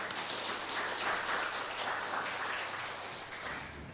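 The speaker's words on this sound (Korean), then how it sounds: "우리 옆에 있는 분들을 향해서 환영의 박수 드리겠습니다" A church congregation gives a welcoming round of applause during a Sunday service, a dense, even wash of many hands clapping that holds steady throughout, with no talking over it.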